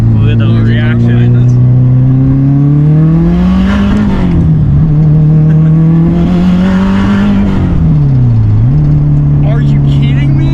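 A car engine revs hard and steady in a low gear while accelerating on a track, a loud continuous drone whose pitch climbs, dips briefly near the middle and climbs again, with no talk over it.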